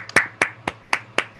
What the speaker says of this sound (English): let's have another round of applause for the senior class